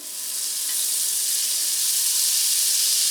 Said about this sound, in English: And now I'm going to add 3 tablespoons of butter.